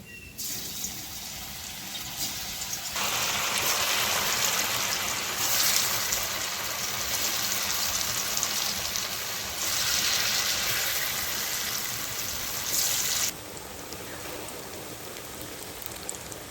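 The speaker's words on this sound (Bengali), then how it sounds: "ডালের কোপ্তাগুলো হালকা করে ভেজে নিব।" Chana dal lentil koftas sizzle as they fry lightly in hot oil in a kadai wok. A dense, rain-like hiss swells and eases in waves, with no voices.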